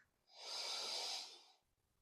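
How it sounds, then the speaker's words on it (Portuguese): One deep, slow breath taken during guided meditation, a soft airy rush that swells, holds and fades over about a second and a half, close and quiet with no talking. "mantenha os olhos fechados, respira profundamente"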